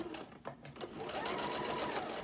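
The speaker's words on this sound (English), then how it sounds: "And now you're gonna put it on your machine" A sewing machine stitches across fabric for a cell phone rice bag, starting with a few short bursts and then running steadily in a close, continuous whir.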